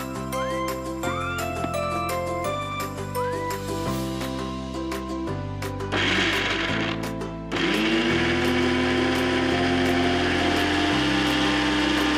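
Mixer grinder blending grapes in a jar for a sauce, a loud close motor whine that runs in bursts and stops, then settles into one sustained grinding roar.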